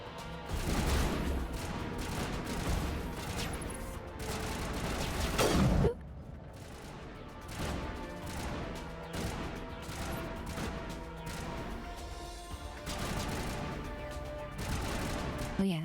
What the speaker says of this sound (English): it's basically the gunfire that is really loud